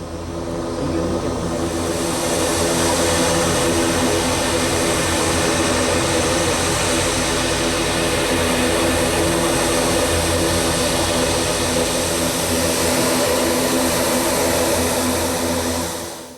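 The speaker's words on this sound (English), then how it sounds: "The first aircraft from Chennai arrived at the Jaffna International Airport" A passenger aircraft from Chennai arrives at Jaffna International Airport, its loud jet engine roar swelling in and holding steady for over fifteen seconds, close and continuous with no voices.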